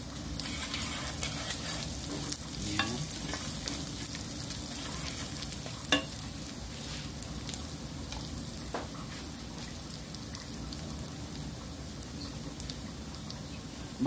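Beef cubes sizzling steadily in a pan of Filipino fried rice (sinangag), with intermittent scraping and clinks of stirring over the constant frying hiss, close and moderately quiet.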